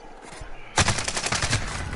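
Rapid automatic gunfire bursts from the shooter game Rebirth, starting abruptly and continuing as a dense, loud rattling stream of shots, with faint game sounds beforehand.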